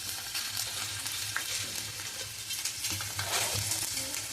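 Ingredients for a Ganesh festival prasadam roasting in a pan, with a dense, continuous close sizzle and scraping stirring strokes throughout, no talking.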